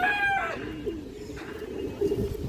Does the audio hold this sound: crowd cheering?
no